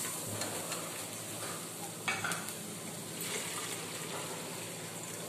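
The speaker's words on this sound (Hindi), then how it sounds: "अब हम अपने मसाले ऐड करेंगे। कुछ तरीके से भून लेंगे।" Spices frying and being stirred in a pan for aloo chana chaat, a steady close sizzle with scraping stirs and a brief louder clatter near the middle, no talking.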